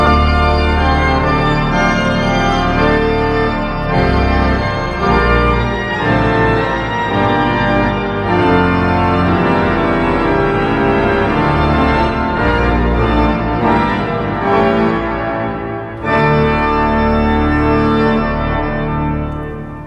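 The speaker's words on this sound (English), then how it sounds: "let's add some trumpets as well, and it sounds like this" A pipe organ plays full tutti with trumpet stops added, a loud, dense and sustained chordal sound with shifting harmonies and a brief dip near the end before the full texture resumes.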